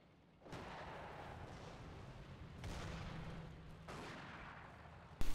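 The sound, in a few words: sniper gunfire in a video game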